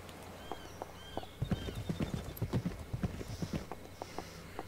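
Horse hooves clip-clop in a rhythmic run of close, fairly loud steps within the Second Life game world, with faint tonal game sounds in the background.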